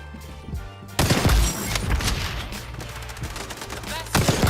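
Light machine gun fire in the XDefiant shooter game: sustained rapid bursts, loud and close, with brief gaps and more firing near the end.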